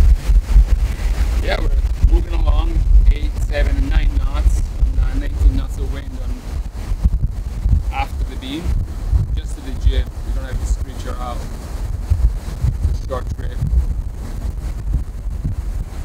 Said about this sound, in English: So we pulled up the sails and we're on our way.